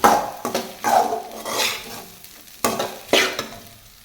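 Gobi rice with soy sauce being stirred in a pan, a spatula scraping and clattering in bursts over a steady sizzle, with a few sharper metallic knocks against the pan.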